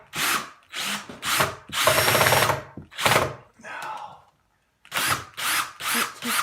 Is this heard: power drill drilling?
yes